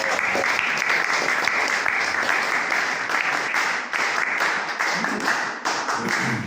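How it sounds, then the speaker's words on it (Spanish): A crowd applauds a party member at a political press conference in Trujillo, giving sustained, dense clapping for about six seconds with faint voices beneath it. "Aplausos también para ella, por favor."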